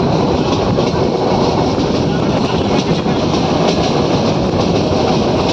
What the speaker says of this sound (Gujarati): જેવું જામવાળા સ્ટેશન આવી જાય ને એટલે ટ્રેન આપોઆપ ધીમી થઈ જાય.